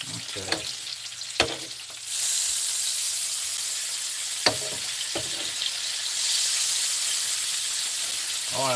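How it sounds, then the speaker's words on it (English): A steady, crackling sizzle of bacon frying in a pan, growing louder partway through, with a few sharp clicks and scrapes of utensils on the pan. "That's the sound of yummy, delicious bacon."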